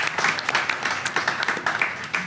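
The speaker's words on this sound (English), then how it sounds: "if you could please give a round of applause to our wonderful speakers" A conference crowd applauds its speakers with steady, close, continuous clapping from many hands that fills the short stretch.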